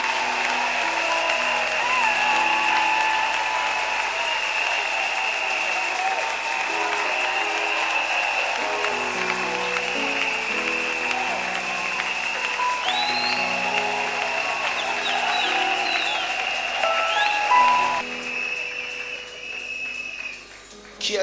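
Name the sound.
congregation applauding loudly in church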